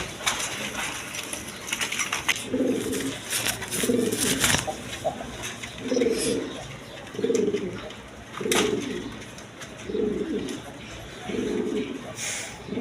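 A pair of Sirazi Lahori pigeons coo in a farm loft, a series of about seven regular, close, throaty coos spaced a second or two apart over background chatter and clatter.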